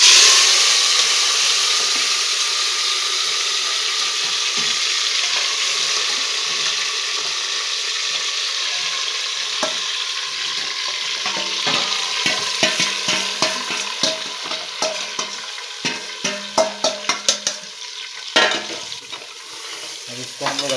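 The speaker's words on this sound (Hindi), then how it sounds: "ये हम लोग जो मैरिनेटेड मटन था अब उसको हम लोग डाल देते हैं।" Marinated mutton fries in mustard oil for a mutton dum biryani, a steady loud sizzle running throughout, with a burst of scraping stir strokes and clinks in the second half and no talking.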